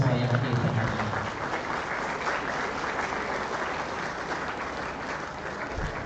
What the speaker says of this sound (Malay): Beri tepukan kepada semua yang hadir pada hari ini.